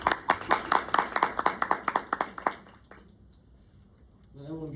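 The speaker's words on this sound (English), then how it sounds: "Clap for him." A small class of students claps in a lecture room, a run of distinct, fairly quick hand claps for about two and a half seconds that stops abruptly, leaving quiet room noise and then the start of a voice.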